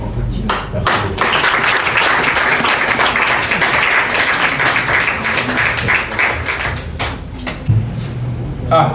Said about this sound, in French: Ah, applaudissements.